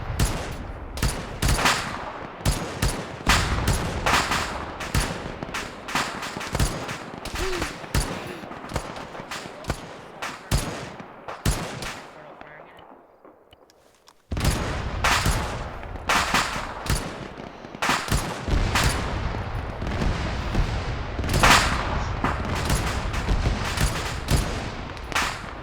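Rapid, loud bursts of automatic video game gunfire shooting through a wall, dense and continuous with a brief lull midway before the shooting resumes just as heavily.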